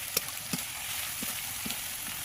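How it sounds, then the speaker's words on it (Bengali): Garlic frying with onion in a pan gives a faint, steady sizzle with a few soft stirring clicks and no voices. "রসুনটা এইবার এই পেঁয়াজের সঙ্গে একটু মানে ভালো করে ফ্রাই করতে হবে, ভেজে নিতে হবে"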